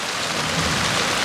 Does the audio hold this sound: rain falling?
yes